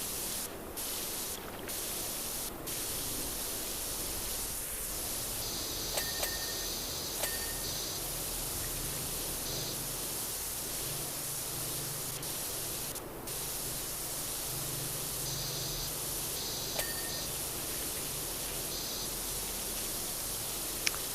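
Pressure washer spraying water in PowerWash Simulator 2, a steady hissing rush held for a long stretch with brief cut-offs and small clicks where the trigger releases, and no voices.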